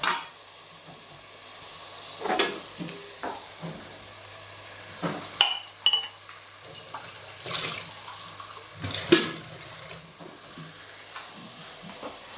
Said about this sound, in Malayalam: ടൊമാറ്റോ കൂടെ ചേർത്ത് നല്ലതായിട്ട് മിക്സ് ചെയ്യുക